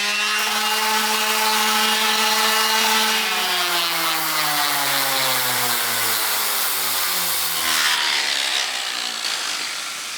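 Power sanding of a cast iron pan with 80 grit abrasive, a steady whining motor tone that gradually drops in pitch as it bears down, with a constant gritty rasp throughout.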